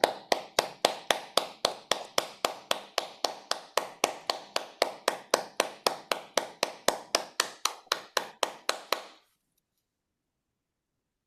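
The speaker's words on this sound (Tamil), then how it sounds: "நாங்கள் 30 செகண்ட் பாராட்டி கைதட்டுவோம்." An audience gives about thirty seconds of applause in praise of a speech: a steady, evenly spaced run of single sharp claps, close and clear, that stops abruptly into silence.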